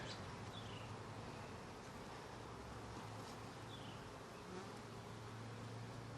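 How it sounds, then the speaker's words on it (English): Bees buzz in a backyard beehive, a faint, steady, continuous hum with no voices. "Whole lot of bees."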